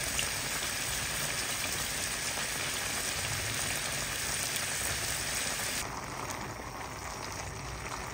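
Bihon rice noodles stir-frying with cabbage in a hot pan, a steady, even sizzle and crackle that drops slightly softer near the end, with no talking.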